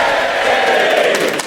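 A live audience cheers together in a loud, sustained group roar to vote for wasps, filling the room briefly before fading.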